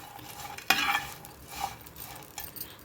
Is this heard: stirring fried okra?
yes